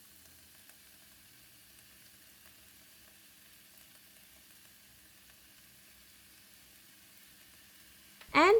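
Fried rice with light soy sauce, sesame oil, oyster sauce and chilli being stir-fried in a pan over medium-high heat, giving a faint, steady sizzling hiss that ends in a sudden loud clatter.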